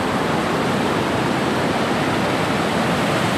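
Surf washing in at Galveston, Texas, a dense, even roar of breaking water that stays loud and unbroken from start to finish, with no voices over it.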